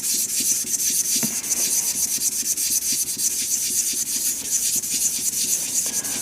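A resin shaving brush handle being rubbed down while finishing on a lathe, a steady, rapid abrasive scrubbing that keeps a constant rhythm close up, with no talking.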